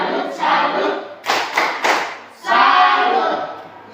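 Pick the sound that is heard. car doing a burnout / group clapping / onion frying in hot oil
group clapping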